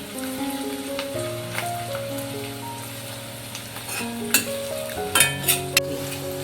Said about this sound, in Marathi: मी कांदा चांगला मस्त मऊ होईपर्यंत परतून घेणार आहे